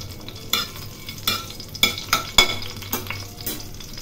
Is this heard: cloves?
yes